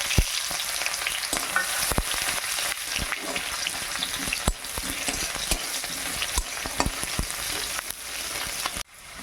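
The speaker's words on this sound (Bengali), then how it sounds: "এবার আমি পেঁয়াজ আর তেজপাতা দিয়ে দিলাম।" Onions and bay leaves fry in hot oil in a kadai, giving a steady close sizzle broken by frequent sharp scrapes and taps of a spatula stirring, with no talking.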